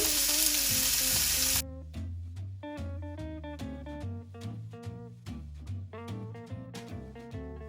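A thin steak sears in a hot pan, a short burst of loud sizzling that cuts off and gives way to soft melodic tones for the rest.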